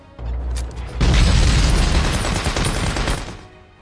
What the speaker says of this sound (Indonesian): mereka buka serangan dengan satu ledakan besar